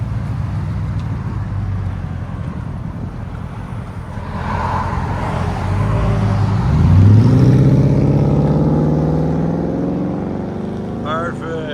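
A 1999 Ford F-150 with a 5.4L Triton V8 and Cherry Bomb glass-pack exhaust idles with a low rumble, then revs up loudly partway through, its growl rising and slowly settling back, with outdoor background noise.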